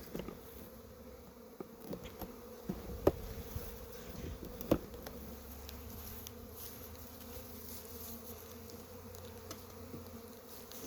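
Bees buzz faintly around the entrances of overwintered mini mating nucs, a soft continuous drone with a few brief closer passes and light knocks, quiet and outdoors.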